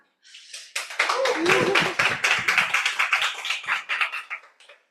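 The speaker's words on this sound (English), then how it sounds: "Give a round of applause to Toastmaster Nata." A burst of applause from a small Toastmasters club audience, quick overlapping claps building fast and then tapering off over a few seconds.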